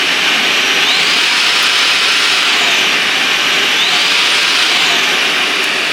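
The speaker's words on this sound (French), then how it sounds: "Et vraiment cet aspirateur il est trop bien. Il aspire hyper bien" A Proscenic P11 cordless vacuum cleaner runs steadily at close range, a loud constant high-pitched motor whine with a faintly wavering tone and no speech.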